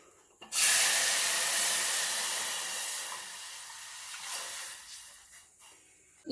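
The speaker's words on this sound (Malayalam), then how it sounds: "ഇനി അതിലേക്ക് നമ്മൾ എടുത്തു വെച്ചിരിക്കുന്ന വെള്ളം ചേർക്കാം." Water is poured into a hot pan of dry-roasted spices for a home remedy, setting off a sudden loud hissing sizzle that slowly fades over several seconds.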